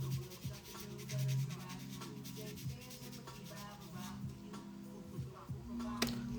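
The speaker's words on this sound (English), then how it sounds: "So I gotta get this all sanded down." Hand sanding of armor plates, a steady scraping rub repeating in uneven strokes, fairly quiet and close, with faint tonal hum and occasional knocks in the background.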